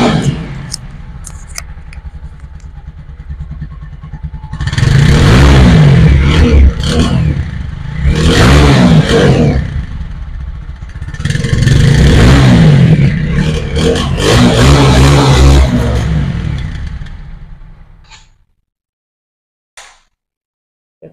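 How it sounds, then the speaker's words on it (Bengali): A TVS Apache RTR 4V motorcycle with ABS, in showroom condition after about 1200 km, revs loudly in three strong bursts over a rumbling idle, heard close up. The engine then cuts off into near silence. "১২০০ চলার বাইকের সাউন্ড এটা শোরুম বরাবরই থাকবে এটা স্বাভাবিক"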